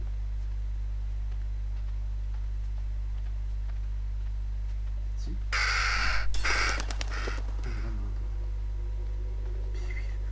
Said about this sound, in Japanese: カラスでビビってる。